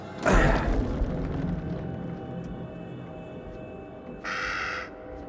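Raven cawing in the video game Little Hope: one loud harsh caw near the start, then a second shorter caw a few seconds later over a dim, rumbling game ambience.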